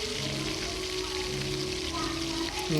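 Spices and meat masala sautéing in hot oil for a soybean dish, a steady close sizzle and crackle running throughout with a faint tonal hum underneath.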